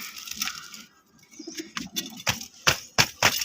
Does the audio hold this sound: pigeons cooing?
yes